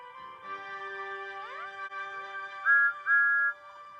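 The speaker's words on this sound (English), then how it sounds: ""Hooray!" whistled Thomas." A steady two-tone toy train whistle sounds with sliding pitches, ending in two sharper, louder toots, fairly soft and close.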